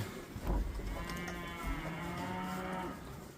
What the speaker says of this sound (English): Quite a few calves in here.